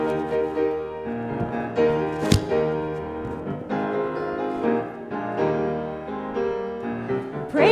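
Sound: choir singing hymn refrain

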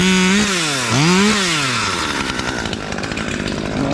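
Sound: Husqvarna T540XP Mark III chainsaw cutting wood

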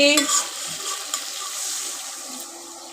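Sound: water poured into frying jute leaf curry in pot

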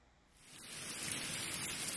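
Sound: rain sound effect

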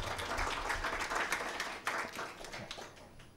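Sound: audience applause for young entrepreneur

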